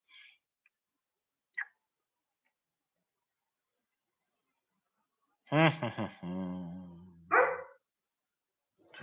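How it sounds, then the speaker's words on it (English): A dog barks a few times, short sharp barks at the start, then louder close barks around the middle and end, separated by near silence. "Shut up, dog."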